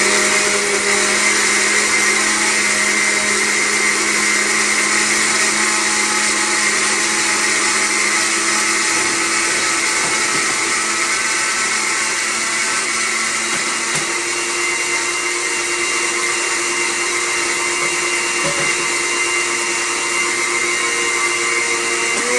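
A kitchen blender whirs steadily and loudly while mixing German pancake batter with flour, the motor's drone holding constant throughout with no voices.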